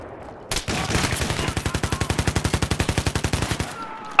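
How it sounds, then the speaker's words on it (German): Sustained automatic gunfire in a video game as a whole magazine is emptied, a rapid, evenly spaced burst of about thirty loud shots that stops abruptly. "ich schieß ein ganzes Magazin und die Sau stirbt nicht"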